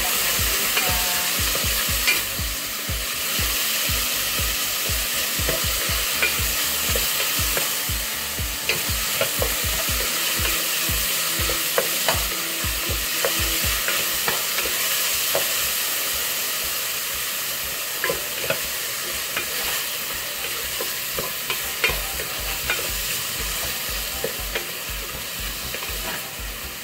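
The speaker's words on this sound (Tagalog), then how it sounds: "haluin nyo lang siya guys ng haluin" Squash and pork simmering in coconut cream are stirred continuously for nearly half a minute, with a steady close bubbling sizzle broken by frequent spoon scrapes and clicks against the pan.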